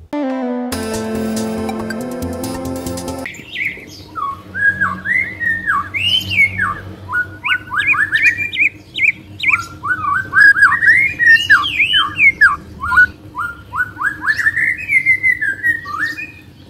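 Varied, melodious white-rumped shama song with rapid whistled phrases and trills, loud and close, preceded by a brief burst of music.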